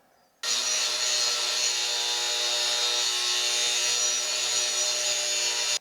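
A steady, harsh grinding whine of a power saw cutting a metal grounding rod runs continuously for several seconds, close and loud, then cuts off.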